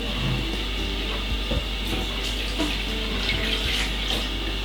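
Running tap water washing salt beef and pigtail in a kitchen sink, a steady, fairly loud rushing splash under a low hum, with faint clinks from the meat being handled.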